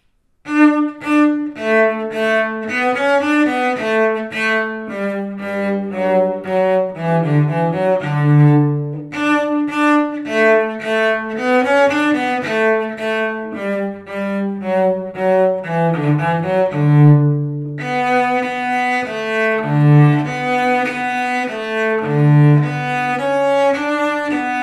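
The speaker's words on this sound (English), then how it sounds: "And the cello sounds a little like this." A solo cello plays a slow melody of sustained, bowed notes that move through the low and middle range, heard close and alone without any talking.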